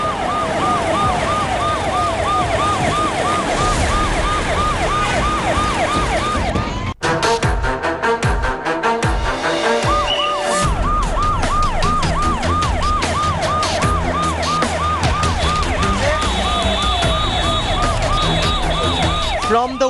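Wailing sirens of VIP politicians' vehicles on Indian roads, loud and close, with rising and falling cycles that break briefly and then resume alongside traffic noise and a second overlapping siren tone.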